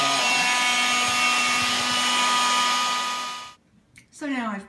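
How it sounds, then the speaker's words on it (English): A small handheld Swiffer vacuum runs with a steady whirring drone and a faint whine for about three and a half seconds, then switches off, followed by a brief voice. "the little Swiffer I have, the little vac, just turn it on"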